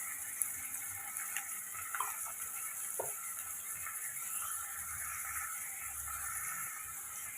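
Tomato, peas and ginger garlic paste sautéing in a pan for a potato-pea masala, a faint steady sizzle with a few light stirring clicks.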